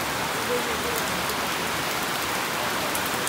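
Steady, dense monsoon rain pouring down nearby in a village near Dapoli, a continuous broadband hiss with no pauses and no one speaking.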